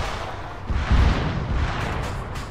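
A rocket explodes in a video game firefight, a broad low boom with rumbling debris that swells around the middle and then tails off.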